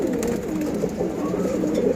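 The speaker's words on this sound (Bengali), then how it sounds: "সবাই বলে যে সিলভার কবুতর এগুলো শুধু সৌন্দর্যের জন্য" A silver pigeon coos in a steady, continuous low murmur, close and fairly loud throughout, with no voices over it.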